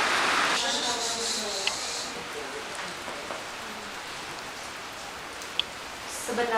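Steady rain falls on a surface, a dense even hiss with occasional drips, and a voice is briefly heard at the start.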